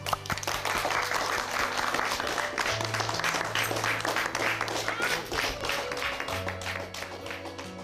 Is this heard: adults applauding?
yes